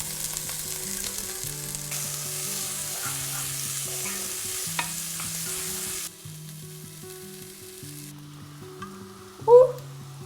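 Onion sizzling and frying in a pan while being stirred, a steady close crackle running under a soft looping melody, with a brief louder scrape near the end.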